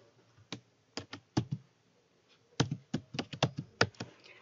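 A password is typed on a computer keyboard at a Hotmail sign-in, two bursts of sharp, distinct close-up keystrokes separated by a short pause, each click clear against near silence.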